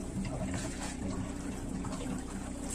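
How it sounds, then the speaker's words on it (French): Water pumped through the plumbing circuit of a camper van, a steady continuous rushing flow with a low pump hum underneath, close and unbroken throughout. "Allez, on allume l'eau. On va circuler partout."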